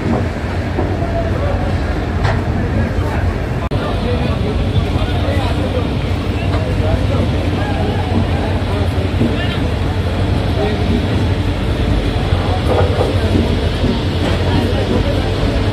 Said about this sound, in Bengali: তো বন্ধুরা চলো, এসএমবিটি এক্সপ্রেস হাওড়া ছেড়ে দিল 10:50 মাত্র 5 মিনিট লেট।